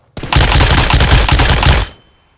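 Automatic gunfire in PUBG Mobile as a player shoots at a target, a loud sustained burst of rapid shots lasting under two seconds, then sudden silence, no talking.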